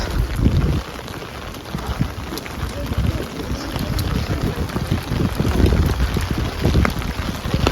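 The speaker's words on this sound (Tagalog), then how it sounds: "Ang ulan po, grabe." Heavy rain falls steadily and loudly outdoors on a rocky, slippery path, a dense continuous patter with gusty noise throughout and no clear talking.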